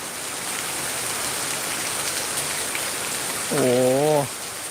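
Heavy rain pours down in Pattaya in a steady, dense hiss, with a brief voice rising over it near the end.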